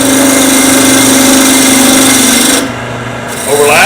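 A wood lathe spins a vase blank while a cutting tool turns it down to diameter, giving a loud, steady scraping hum with a brief dip near the end before the cutting resumes.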